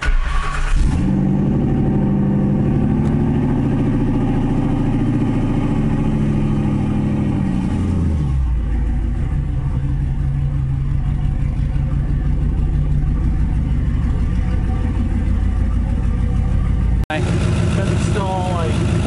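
A car with a freshly replaced engine, run after a burnout, starts and idles up close; a loud, low rumbling rev fills the first eight seconds before it settles into a steady, even idle.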